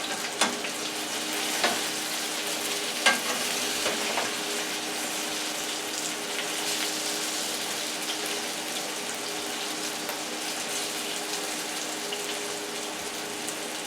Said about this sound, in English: Okay, let's turn our home fries over.